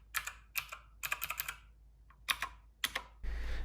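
A Keychron K2 mechanical keyboard with blue-switch keys is typed on in bright, clicky bursts of keystrokes with short pauses between, close and crisp, ending in a louder rush of noise.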